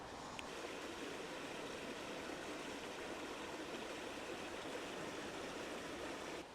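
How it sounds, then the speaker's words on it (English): A river flowing in the Northamptonshire countryside makes a steady, broadband rushing and burbling that stays at an even level throughout, with no voices. "I found some nice flowing water"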